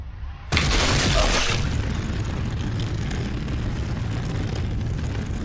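A shotgun blast in Resident Evil goes off as a sudden loud boom after a short quiet start, its rumbling tail filling the rest of the stretch.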